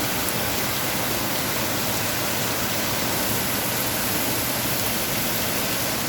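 Heavy rain pours down steadily in a flooding downpour during a week of rain in the Philippines, a dense continuous hiss with no pauses and no talk over it.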